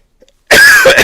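One loud, abrupt cough from a person with seasonal allergies bursts out close by after a moment of near silence, rough and throaty, trailing off briefly.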